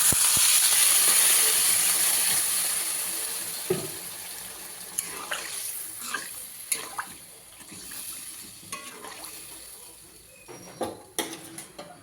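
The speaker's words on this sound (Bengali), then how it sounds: "এবার পরিমাণ মতো জল দিয়ে দেবো" Water poured into a pan of spiced potato curry, a loud steady hissing pour for the first few seconds that fades into bubbling and scattered clinks and knocks, with no voices.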